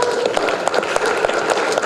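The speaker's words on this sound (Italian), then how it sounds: "Accogliamo la dottoressa con un applauso." An audience at a closing event claps to welcome a doctor: a loud, dense round of many hands in quick, steady clapping, filling the whole moment without speech.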